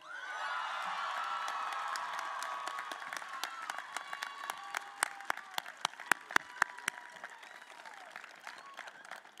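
Sustained audience applause rings out at a 2014 California State University Channel Islands graduation commencement ceremony, dense clapping with scattered whoops and cheers swelling, then thinning into sharper individual claps toward the end.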